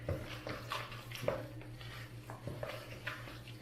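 Enchilada sauce is stirred into a beef filling in a dish, producing soft, wet scraping and occasional light knocks of the utensil against the container, quiet and close with a low hum beneath and no talking.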